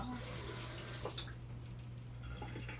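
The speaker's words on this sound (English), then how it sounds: "Let's rinse off the spoon here." A kitchen tap runs as a spoon is rinsed under it while making Brunswick stew, a close, steady gush of water with faint clinks, brief and without talk.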